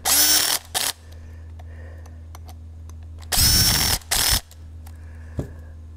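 A power drill tightens down the parts of a Malone Xpress scupper cart in two paired bursts of whirring, each lasting about half a second, close by, with quiet handling noise between them.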